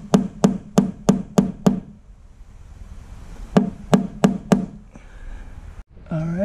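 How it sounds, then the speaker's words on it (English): A hammer strikes a center punch on a school bus in two rapid series of sharp metallic knocks, six and then five, with brief scraping after. "I'm center punching"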